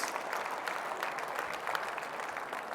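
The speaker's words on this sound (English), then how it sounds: "Let's have another round of applause for all of our award winners" Steady applause from a banquet crowd at an awards gala reception, continuous dense clapping at moderate level throughout, with no voices rising above it.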